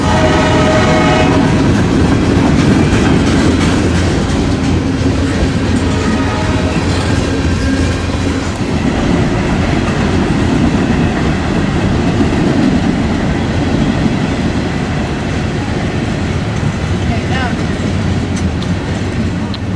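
A long manifest freight train rolls by on the railroad, a loud, continuous rumble with rhythmic wheel clatter and an early horn sounding, while people talk intermittently nearby.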